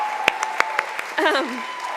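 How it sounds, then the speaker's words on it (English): A few scattered, sharp handclaps from the audience at a school reunion awards and recognition ceremony, followed by a brief voice speaking. "Yes, so much clapping, it's fantastic, woo!"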